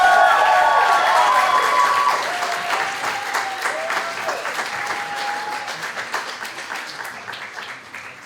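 Enthusiastic applause from a sizable audience at a student government candidate debate, loud at first with a few whoops, then gradually tapering off into scattered claps.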